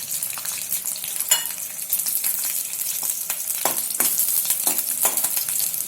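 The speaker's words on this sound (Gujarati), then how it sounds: "એમાં આપણે 10 થી 15 કણી લસણની સાંતળી નાખશું" Ten to fifteen garlic cloves fry in a spoonful of hot oil in a pan for tomato chutney. The steady, bright crackle and sputter runs throughout, with sharper pops here and there and no talking.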